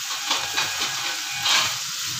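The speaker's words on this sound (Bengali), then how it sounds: "বিনস দিয়ে আবার একটুখানি 2-3 মিনিট মতো ভেজে নেব" Green beans and carrots fry in a pan for a vegetarian paneer fried rice, a steady close hiss with a few brief louder sizzling swells and no talking.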